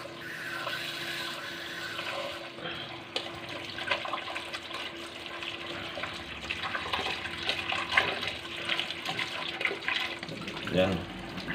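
Jackfruit being rinsed under a running tap, a steady splashing water stream with shifting gurgles throughout, someone speaking over it now and then.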